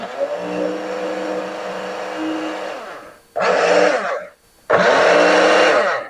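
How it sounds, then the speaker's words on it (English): A Hamilton Beach mini blender whirs loudly through a recipe, with one long run followed by two shorter pulses separated by brief silences, close and steady. "let's put the lid on and we'll start blending and see how it goes"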